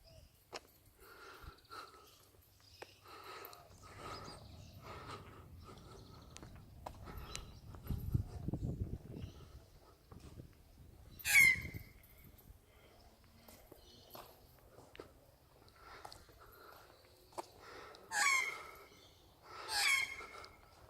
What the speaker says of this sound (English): That's the magpie making that noise.